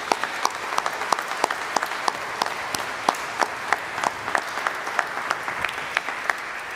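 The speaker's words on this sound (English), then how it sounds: "So we give the under-11A cricket team a round of applause." Steady audience applause fills a school speech day hall, a continuous wash of clapping with distinct individual claps popping out near the listener, holding evenly for nearly seven seconds without talk.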